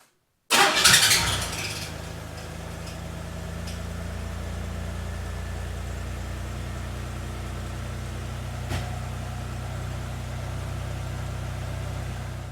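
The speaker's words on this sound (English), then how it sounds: "We're going to run the truck for a few minutes" A Chevrolet S-10 truck engine cranks and fires, with a loud burst as it catches, then settles into a steady, even idle that runs on without talk.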